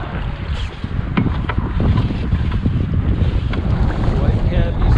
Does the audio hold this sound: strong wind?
yes